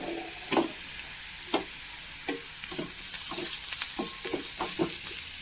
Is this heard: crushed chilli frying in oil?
yes